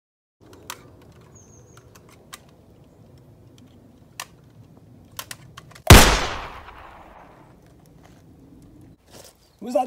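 A single loud, close gunshot cracks out and rings off into a decaying echo, set among scattered clicks, light taps and handling noises in an otherwise quiet space.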